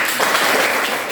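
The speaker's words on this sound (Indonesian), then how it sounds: "Tepuk tangan." A short burst of classroom applause at a senior high school: a dense patter of many students clapping together, close and loud, lasting about a second with no voices.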